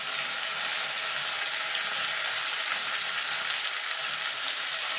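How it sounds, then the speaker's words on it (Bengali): Okra coated in salt, turmeric and gram flour frying in oil: an even, dense hiss of sizzling that holds constant and close throughout, with no talking. "এবার যে ভেন্ডিটা আমি নুন, হলুদ আর বেসন দিয়ে মাখিয়ে রেখেছিলাম সেটা দিয়ে দেবো। দিয়ে এটাকে হালকা করে ভেজে নেব।"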